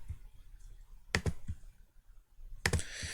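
A computer mouse clicks on edges in FreeCAD CAD software, a few sharp, separate clicks against a quiet room background, close and fairly soft, with a louder cluster of clicks near the end.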